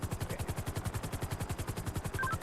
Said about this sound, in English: I just heard shots.